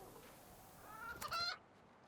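A chicken in the video game Reka clucks in a short burst of a few sharp calls near the end, close and fairly clear over quiet background ambience.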